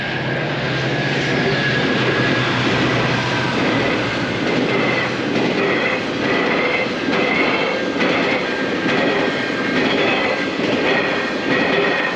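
A steady, loud rumble of a GO commuter train rolling past nearby in Mississauga, with continuous rail noise and a low hum throughout, no talking.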